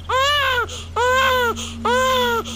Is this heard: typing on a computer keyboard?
no